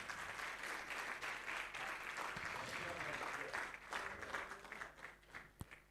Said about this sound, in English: Please clap for them. Clap for them.